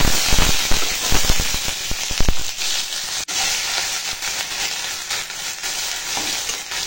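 Crushed whole garlic hits hot mustard oil already holding nigella seeds and green chillies, bursting into a loud crackling sizzle with sharp pops at first, then settling into a steady hiss.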